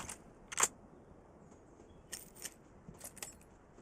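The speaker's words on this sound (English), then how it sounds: "Swapping mags." A magazine swap in the mobile shooter Arena Breakout: a few quick, crisp metallic clicks and rattles, fairly close, spaced over a few seconds against a quiet background.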